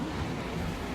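Floodwater of a swollen river in White Sulphur Springs, West Virginia rushes in a dense, continuous roar, loud and close with no pauses.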